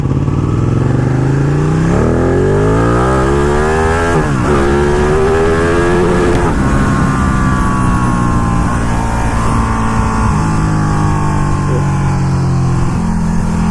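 A 200 hp superbike engine revs hard, its pitch sweeping up sharply several times with quick shifts, loud and close, no talking.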